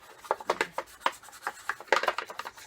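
Scouring cream being scrubbed over old stains on plastic, giving a series of short, close rubbing strokes in an uneven rhythm with brief pauses, louder toward the end.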